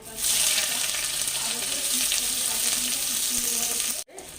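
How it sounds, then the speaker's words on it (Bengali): Onions sizzle and fry in hot oil with panch phoron and dried red chilli, a steady loud crackling hiss that holds evenly, then cuts out briefly near the end. "পাঁচ ফোড়ন দিয়ে দিচ্ছি দুই এক সেকেন্ড ভেজে নেবো এটাকে এবার পেঁয়াজগুলো আমি দিয়ে দিচ্ছি"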